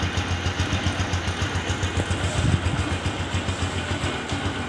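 A motorcycle engine, just push-started in second gear without kick or self-starter, runs steadily nearby with an even pulsing idle-like chug and no talking.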